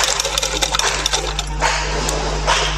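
Sewing machine stitching fabric for a baby cap: rapid, rhythmic clicking and clattering of the needle, close and fairly loud, over a steady low motor hum.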